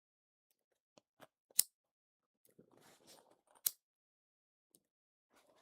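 Scissors trimming loose threads on cotton bags, a handful of crisp, close snips scattered irregularly amid near silence.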